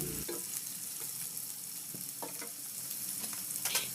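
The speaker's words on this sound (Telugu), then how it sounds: "ఒక చిన్నగా కట్ చేసిన ఉల్లిపాయను వేసి బాగా బ్రౌన్ కలర్ వచ్చే వరకు ఫ్రై చేసుకోవాలి" Chopped onion fries in a pan with green chilli and ginger-garlic paste, browning while being stirred; a steady close sizzle runs throughout with occasional scraping clicks of a spoon against the pan.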